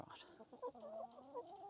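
Backyard chickens clucking nearby in a garden setting, a few soft rising and falling clucks and warbling calls over a quiet, faint background.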